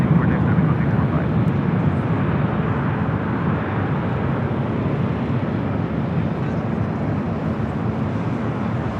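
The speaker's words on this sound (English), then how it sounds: "Mexico 737 MAX 8 heading to Mexico City." A Boeing 737 MAX 8 airliner at Los Angeles airport, a loud continuous jet engine roar close by that holds steady throughout with little change.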